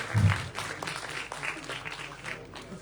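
An audience at a youth national award ceremony in Dehradun claps steadily under a presenter's voice, which speaks over the applause throughout.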